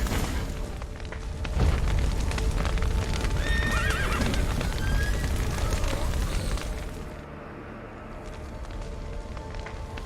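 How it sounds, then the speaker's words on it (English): Horses in The Witcher 3 whinny and clip-clop near a collapsed burning building, with a loud rumbling crash and roar of fire, the hoofbeats and neighs rising over the din before it drops to a quieter tail. "The horses!"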